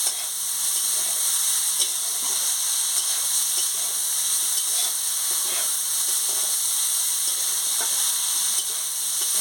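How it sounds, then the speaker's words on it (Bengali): Gima shak chorchori frying in a pan with fish, egg, potato and eggplant, a loud continuous sizzle and hiss broken by occasional spoon scrapes as it is stirred, no voices. "ভালো করে নাড়াবো, ভাজা ভাজা হয়ে গেলে তারপরে জল দেবো"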